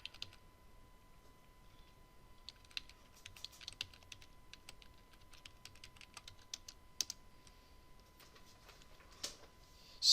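Code typed on a computer keyboard during a Java programming lecture on arrays, a long run of quick, light key clicks with short pauses, close and moderately quiet, no voice over it.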